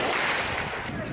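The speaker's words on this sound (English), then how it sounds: "Heavy gunfire follows." Heavy gunfire during a rebel attack on a prison, a loud, dense burst of overlapping shots at close range with rough noise filling the whole short moment.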